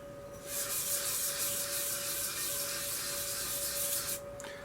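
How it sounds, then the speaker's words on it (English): Soft, continuous rasping of sandpaper against a camphor wood hollow form spinning on a lathe, with a steady hum underneath, lasting a few seconds before easing off. "I'm just very lightly sanding"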